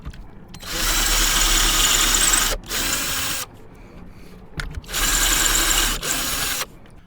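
Drill with a 5mm bit boring a hole in a Daedalus V1 part, running in two loud sustained bursts of about two seconds each, separated by a short pause and quieter handling noise.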